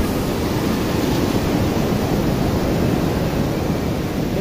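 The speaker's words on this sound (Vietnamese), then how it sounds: "Sóng biển rất là to." Big sea waves crash on a beach at high tide in a continuous loud roar of surf, steady and close with no voices.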